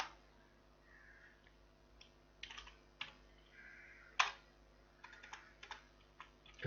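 Quiet typing on a computer keyboard during data entry in Tally ERP9 accounting software, made up of scattered key taps and short bursts of clicks with pauses between them, close and soft.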